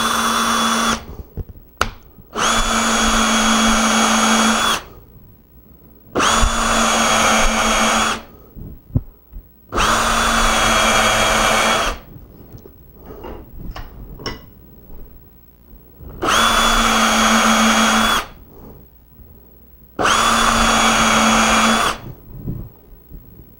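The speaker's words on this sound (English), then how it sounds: "I'm going to put about 3 screws in these." A power drill drives screws into a wooden crosscut sled. Six loud, sustained bursts of motor whine, each lasting about two seconds, are separated by short pauses filled with clicks and handling noise, with no talking.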